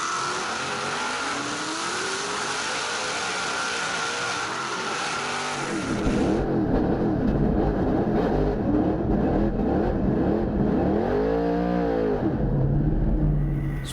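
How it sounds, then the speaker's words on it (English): Drift car engine revving hard during an onboard run at an Australian drifting event, a loud sustained roar with rising and falling revs and a sharp shift midway, no talking. "Let's jump on board with Josh Botcher for a wild ride in the Achilles radial replay"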